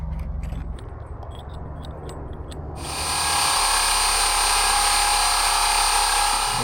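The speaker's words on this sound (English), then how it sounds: "Now I just have to drill a 1 inch hole down the center." A power drill fitted with a hole saw bores a 1 inch hole down the center of a wood block; after some handling clatter, a loud steady whining grind starts and runs close and continuous.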